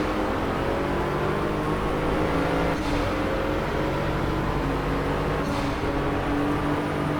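Lamborghini Huracán engine in a racing video game, launching from the start at 5,000–6,000 RPM under launch control: a steady, loud droning engine tone with rising harmonic sweeps around shift points, no talk over it.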